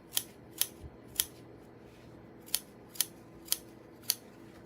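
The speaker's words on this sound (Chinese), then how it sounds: "你看这种好剪刀，加薄跟那切菜同款的" Sharp, thin-bladed fabric scissors snip notches into the curved seam allowance of a sewn fabric zipper pouch. About eight crisp, close snips come in an uneven rhythm against a quiet room.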